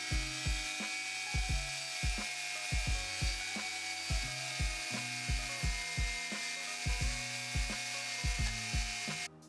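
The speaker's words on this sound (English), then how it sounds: "I use some Autosol and my rotary tool to polish out the base and give it a bit more of a shine" A rotary tool whirs steadily while polishing the base of a Corgi diecast Volvo P1800 model with Autosol, its tone pulsing in a regular rhythm as the bit presses against the metal, close and fairly loud, stopping abruptly at the end.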